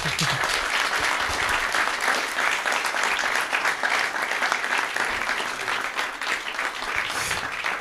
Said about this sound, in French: est-ce qu'on peut l'applaudir bien fort, s'il vous plaît?